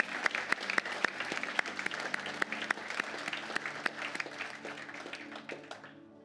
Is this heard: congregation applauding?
yes